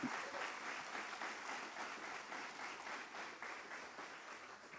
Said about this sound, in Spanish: Denle un aplauso al pastor Jami que está acá